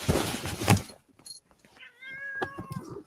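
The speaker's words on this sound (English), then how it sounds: "Cats." Cats meowing indoors, a few distinct tonal meows close by after a burst of rustling noise, with scattered knocks and shuffling between the calls.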